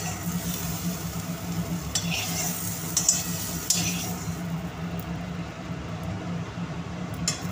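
Pieces of bhetki fish fry lightly in hot oil, a continuous close sizzle with a few faint utensil clinks and stirring scrapes along the way.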